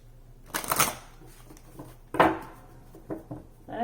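Tarot cards being shuffled in a few short riffling bursts with pauses between, close and crisp, with faint handling noises in the gaps.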